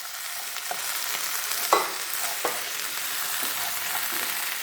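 Drumstick pieces sizzle in oil in a pan while being stirred, with a steady frying hiss broken by a few sharp scraping clicks of the spoon against the pan.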